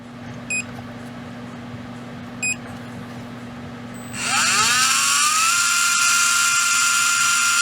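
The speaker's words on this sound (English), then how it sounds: "Let's go ahead and run the RPMs on it." A REDS Racing VX4 PRO Stock 17.5T brushless RC motor spins up after a couple of short beeps, its whine rising quickly into a loud, steady high-pitched scream that holds to the end.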